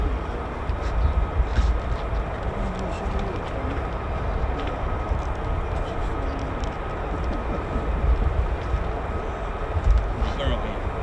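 A Boeing C-17 military transport aircraft sits near the listener at RAF Lakenheath, its engines giving a steady broad roar and hum that runs unbroken throughout at moderate loudness with a deep low rumble.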